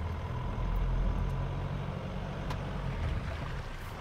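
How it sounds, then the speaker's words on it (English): A medium SUV's engine drones steadily as throttle builds with one wheel lifted off the ground, a low continuous rumble that swells slightly and holds, heard from inside the vehicle. "I'm applying more and more throttle."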